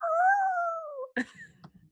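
A person imitates a puppy's howl during a tabletop game session: one long, wavering, rising-then-falling howl, then a short yelp and a few soft whimpering sounds, close and alone.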